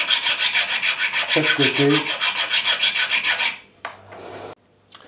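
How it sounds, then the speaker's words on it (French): A file rasps in quick back-and-forth strokes along the cut edges of a wooden roller whistle body with a rectangular mouthpiece. The rhythmic scraping stops after about three seconds and is followed by a few brief knocks and a low hum. "Pour retirer les traces de coupe de chaque côté du corps, je vais limer"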